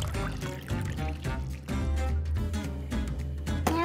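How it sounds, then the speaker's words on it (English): Water pours into a cup of polymer crystals in a short trickling, splashing stream, with clattering and faint background chatter from a kids' science experiment. "Now we're gonna put the water into here."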